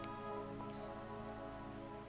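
Steady rain pattering in the video game Deadly Premonition, a continuous even hiss of drops with tonal game ambience underneath and no talk.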